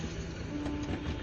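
A train rolling slowly in the video game Poppy Playtime Chapter 3 gives a steady mechanical rumble with faint tonal hums and light rattling, continuous and even with no voices.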